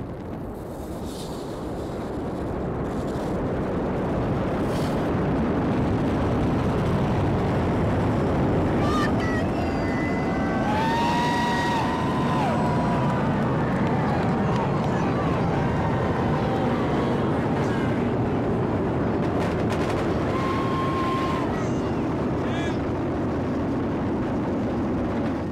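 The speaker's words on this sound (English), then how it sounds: "You are watching the launch of the GOESU satellite just taking liftoff out of Kennedy Space Center in Florida." A SpaceX Falcon Heavy rocket lifts off from Kennedy Space Center in Florida carrying the GOES-U weather satellite, a sustained broad roaring rumble that builds and holds throughout while a commentator talks over it.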